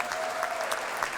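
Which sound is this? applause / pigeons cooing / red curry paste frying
applause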